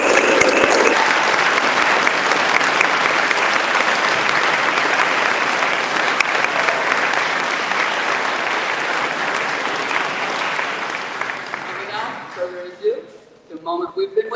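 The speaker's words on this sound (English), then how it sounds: "I invite everyone, students and guests alike, to applaud the milestones among our faculty and staff this year" Sustained, dense audience applause at a ceremony honoring faculty and staff milestones, loud and continuous for over ten seconds before tapering off into scattered claps and murmurs.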